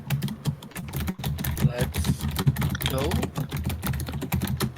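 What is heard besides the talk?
typing on a computer keyboard picked up by microphone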